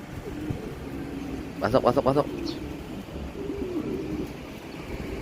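Racing pigeons at a loft after a 300-plus kilometre race, giving a brief burst of close cooing calls under a man's speech in Filipino, with steady low background noise.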